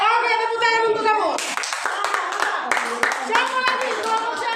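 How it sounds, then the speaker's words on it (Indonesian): A teacher's voice is followed by classroom clapping from students, sharp overlapping hand claps in a small room, with some talking mixed in. "Oke, tepuk tangan untuk kamu."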